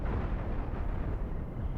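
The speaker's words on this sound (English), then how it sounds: "the chain reacted, exploded everything inside" Deep, rumbling blast of ships exploding in a chain reaction in the space video game Cosmoteer, a dense continuous boom of overlapping detonations with no gaps, loud and close.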